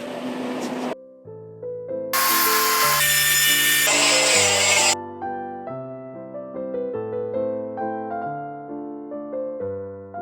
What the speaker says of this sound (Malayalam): ഇനി അടുത്തത് 3 ആയി പാർട്ടീഷൻ ചെയ്യാനുള്ള ചെറിയ 4 പീസുകൾ കൂടി കട്ട് ചെയ്യാം.